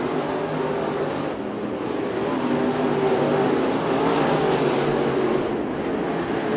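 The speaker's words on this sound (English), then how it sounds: "Racing hard, battling for position here at Arizona Speedway, but it's all Baca out front with 4 laps to go." IMCA modified race cars battle for position at Arizona Speedway, their engines a continuous dense roar heard from trackside, steady and fairly loud with slight swells as the pack circulates.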